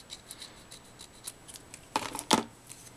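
Scissors trimming the edges of a wooden placard: a few quiet snips, then two louder, sharper cuts close by, with no voices.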